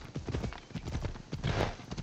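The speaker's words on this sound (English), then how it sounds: "Can I make my horse go faster?" Horse hooves galloping in the video game Assassin's Creed Odyssey, a fast, steady clip-clop rhythm of repeated thuds at close range with no voices over it.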